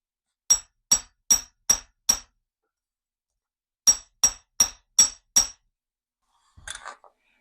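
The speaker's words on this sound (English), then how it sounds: "we're going to give it a few little whacks" Two bursts of sharp metallic hammer taps on earring wire, five evenly spaced strikes each separated by a pause, followed by a faint clink at the end.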